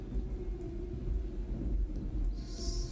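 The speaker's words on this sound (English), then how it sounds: "Especially the sound of the rain and the thunder." Video game rain and thunder in the VR game Fish Bowl: low rumbling thunder rolls under a steady patter of rain, with a brief hissing burst near the end; no one speaks.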